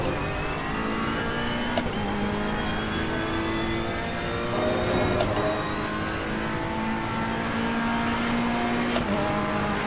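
A GT race car in the Assetto Corsa Competizione racing game holds full throttle, its engine droning loud and steady as the pitch climbs through the gears, with brief shifts and a faint tire squeal.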